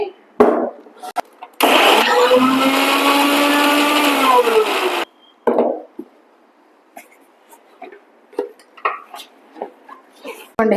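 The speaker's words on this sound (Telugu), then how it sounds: "ఇంకా ఆనియన్లోకి కొంచెం జీరా వేసేసి దీన్ని అయితే గ్రైండ్ చేయాలండి." A kitchen blender grinds onion with cumin seeds into a paste for a Telangana-style sarvapindi snack, one loud steady whir of about three seconds between clunks and handling noises.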